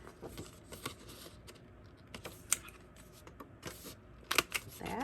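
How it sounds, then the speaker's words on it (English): Paper being cut with a corner punch during a craft project, giving several crisp snapping clicks and rustles at close range, with sharper punches near the middle and the end against a quiet room. "So we are going to corner punch."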